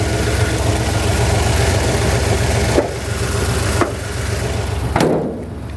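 A 1975 Jeep with a fuel-injected Dauntless V6 runs at a steady low idle, close and loud, with a few sharp knocks and clunks near the end as the engine note drops. There is no talking.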